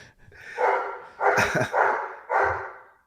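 A dog barks close by, three or four loud barks spaced about a second apart, with nothing else in the background.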